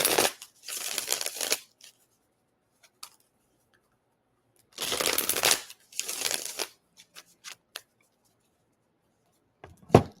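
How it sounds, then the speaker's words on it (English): Tarot cards are shuffled in several bursts of rapid riffling, with quiet pauses and a few soft taps between them; no talking. "Let me shuffle this up real quick."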